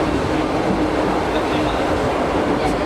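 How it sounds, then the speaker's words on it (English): A Paris Metro Line 8 train running on steel wheels and steel rails arrives at the platform with a loud, steady rumbling roar that fills the whole stretch. "Yeah, here comes the train."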